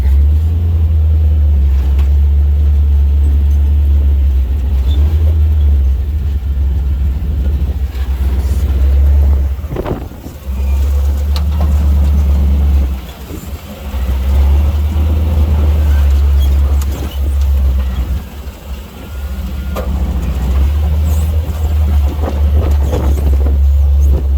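A side-by-side UTV in front-wheel drive descends a tight switchback on the Poison Spider trail, its engine a loud low drone that dips and surges as the throttle eases off and picks up again, heard from close by.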